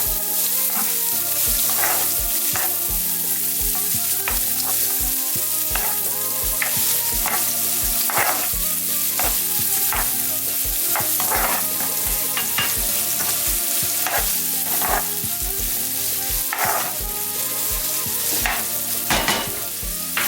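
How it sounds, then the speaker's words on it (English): Carrots sizzling in hot oil in a pan, heard close and continuous for a long stretch, with frequent sharp scrapes and clacks of a utensil stirring at a brisk, irregular rhythm and no talking. "And put some carrots in there. Just fry that a little bit."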